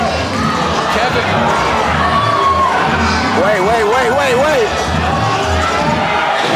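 A wrestling crowd at a Central States Wrestling Legacy 2 show roars steadily, with loud continuous cheering and shouting, voices calling out and a commentator talking over the din.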